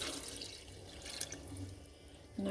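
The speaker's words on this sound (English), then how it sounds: "I'm going to add a little bit of water." Water poured into a gumbo pot on the stove, about two cups added to thin it: a steady, soft splashing pour running throughout at moderate, even level, ending with a slightly louder burst.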